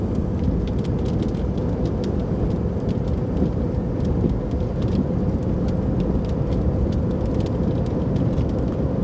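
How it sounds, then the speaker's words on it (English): Steady heavy rain roars close by for the whole stretch during a thunderstorm near Weatherford, with faint brief ticks over the dense wash and no distinct thunder clap standing out. "Nice little storm there."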